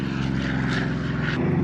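A P-51 Mustang propeller plane drones past at an air show with a steady, throaty engine roar, loud and continuous throughout.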